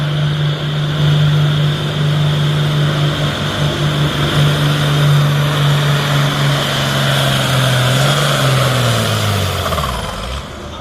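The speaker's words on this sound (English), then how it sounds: "good running tractor there." A tractor engine at a tractor pull drones loudly and continuously with a steady low hum, then the pitch sags and winds down near the end, with no talk over it.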